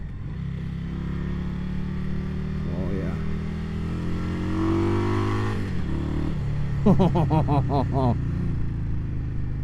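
A stage 1 2020 Indian Scout Bobber motorcycle engine rumbles and revs during a ride, its low drone rising and shifting through gears with a burst of throttle near the end, while a voice speaks briefly over it.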